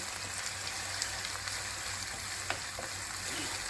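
Minced meat frying in a pan gives off a steady, close sizzle with faint crackles and a few small scraping taps, no voices over it.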